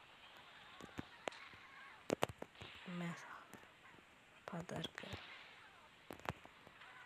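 Rockets blow up a limousine in a GTA-like video game, firing several sharp, distant-sounding blasts and cracks in scattered bursts. A low, quiet voice speaks under them.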